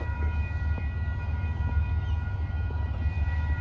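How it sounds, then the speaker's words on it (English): An Amtrak passenger train bound for Albany rumbles past at a riverfront park in light rain, a steady low heavy rolling drone with a faint sustained horn-like tone riding over it. "I think another train's coming. It might be an Amtrak."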